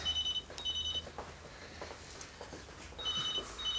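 A telephone rings in a quiet room in a TV drama: short bursts of electronic ringing open the clip and return near the end, with a pause and faint room noise between them.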